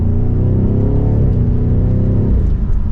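A 2023 BMW M550i sedan in sport mode, its exhaust droning low and steady through a corner, with harmonic pitch shifting slightly as revs change, moderately loud from inside the car.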